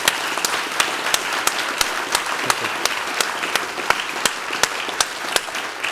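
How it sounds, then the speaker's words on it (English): Applause from an audience at the close of a political talk event, a continuous patter of many hands punctuated by sharp, distinct claps from a few people nearby. "So I want to give a huge round of applause."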